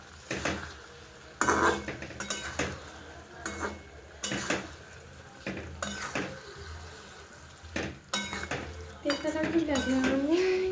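Vegetables stirred in a cooking pot with a metal spoon, irregular scraping clatters and clanks against the pot over a low sizzle, with faint voices in the background.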